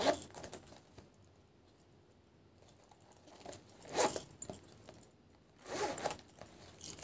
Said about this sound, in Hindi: इसमें आपको फ्रंट पे एक जिपर मिल जाएगी।